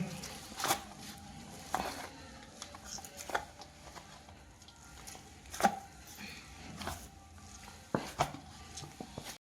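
Fenugreek dhebra dough being kneaded by hand with oil, soft squishing presses and slaps repeating at irregular intervals, close and quiet.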